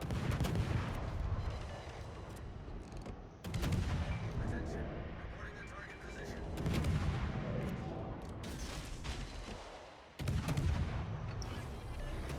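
Heavy naval guns from a Harugumo destroyer in World of Warships fire shells toward a Des Moines cruiser, booming salvos roughly every few seconds over constant battle noise, loud and close.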